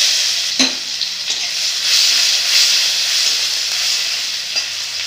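Two bay leaves and garlic paste sizzle in hot oil in a pan, a steady close hiss with a few small pops and stirring taps.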